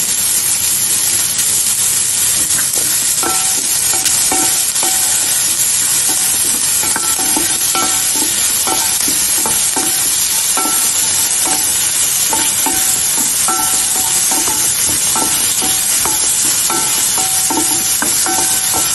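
Sliced onions with a little salt sauté in a pan for a South Indian dish, a loud, steady sizzle and hiss with repeated scraping stirs throughout, and no talking.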